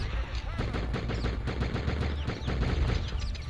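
Rapid automatic gunfire in a shooter video game, dense continuous bursts of shots filling the whole stretch, loud and close with a rocket-launcher-armed player blowing things up.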